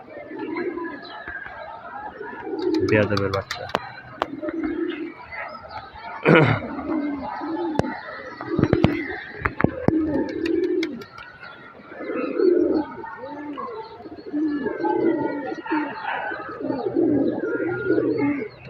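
Loft pigeons released outside after a long time coo in soft throaty bursts, with wing flaps and clatter mixed in, and a voice speaks briefly.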